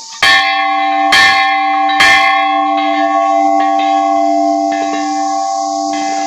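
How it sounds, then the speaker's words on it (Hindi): A large bell at a Himalayan mountain temple in Uttarakhand rings three strong, close strokes roughly a second apart, each leaving a long, shimmering, sustained tone that slowly decays through the rest of the clip. "ये बड़ी वाली घंटी है, ये बहुत दूर तक इसकी आवाज़ आती है।"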